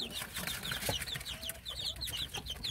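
Chicks of native Korean chickens, yellow and black, peep in quick, high, chirping bursts, several birds overlapping at close range over a soft background.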